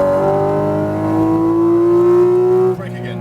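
A Porsche 718 Cayman GT4 RS on a track holds a loud, steady engine tone that climbs in pitch as it accelerates, then drops off sharply near the end.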